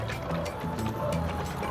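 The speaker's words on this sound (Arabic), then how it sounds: "سامعين صوت الميه" Water sloshing inside a whole coconut, a continuous muffled liquid swishing heard up close for under two seconds, with no talking.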